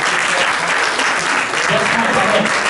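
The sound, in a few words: audience applause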